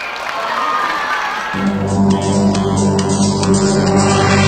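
Audience clapping at a school graduation and awards ceremony, a broad wash of applause that gives way after a second or so to loud music in the hall.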